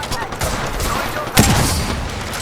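Bursts of weapon fire in the battle royale shooter Apex Legends, with a sharp loud shot standing out among rapid, close gunfire while a player talks over it.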